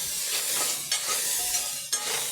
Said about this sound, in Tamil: அதை சேர்த்து நல்லா வதக்கி கொடுக்குறேன்